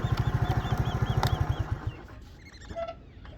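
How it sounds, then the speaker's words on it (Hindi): A motorcycle engine putters in a fast, steady rhythm nearby, then cuts out, leaving quiet outdoor ambience with a faint bird call. "और हमारे मोटरसाइकिल का शोर भी है"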